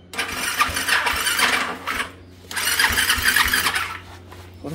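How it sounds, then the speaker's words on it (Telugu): A motorcycle engine with a newly fitted battery cranks on its self-starter in two whirring attempts, a short quiet gap between them, before catching and running, close by with no talk. "బండి అయితే స్టార్ట్ అయింది"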